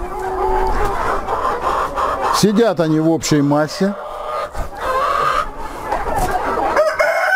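Roosters cluck and one crows loudly near the middle, with someone talking over the birds throughout.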